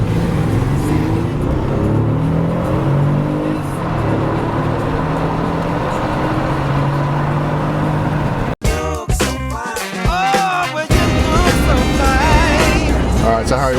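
A VW Phaeton with the W12 engine cruises along, a steady engine and road drone heard from inside the cabin, then people start talking over it partway through while the car's hum continues underneath.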